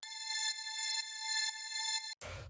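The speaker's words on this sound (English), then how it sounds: "After that, we have the string," A synth string layer from a melodic house track plays a steady, bright sustained tone with a faint rhythmic pulse, then cuts to a brief burst of noise at the end.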